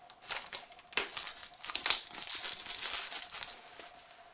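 Crinkling plastic wrap being pulled and torn off a pack of cards, a few sharp rustling bursts and crackles, close and fairly quiet with no talk.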